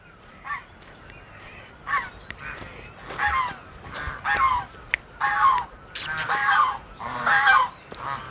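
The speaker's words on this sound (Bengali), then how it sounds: "হাঁসগুলোকেও দেখতে পেয়েছি, একবার দেখাই।" Domestic geese at a rural stay in Reshikhola, East Sikkim, honk repeatedly in loud, overlapping calls that come in irregular bursts, fairly close and with no talk.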